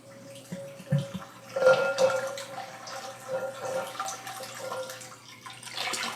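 Water pours into a 5-gallon crock, about 2 gallons of it, the start of waterglassing eggs. A steady close splashing and trickling runs throughout, with small drips and sloshes near the start.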